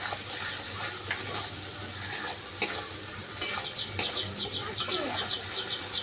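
Spices being stir-fried with sour yogurt in a pan for rohu fish kalia, giving a steady sizzle and frying hiss with scraping stirring strokes and a few sharp clinks of the utensil, with no talking.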